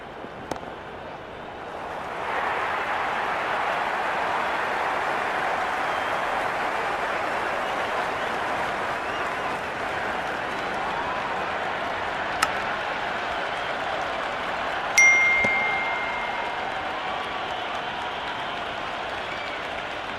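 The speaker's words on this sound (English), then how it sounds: "The crowd are on the edge of their seats." A stadium crowd applauds steadily during a tense Pakistan versus New Zealand T10 chase in the Cricket 26 video game, a broad, even wash of clapping and crowd noise sustained throughout, with a couple of brief sharp accents near the end.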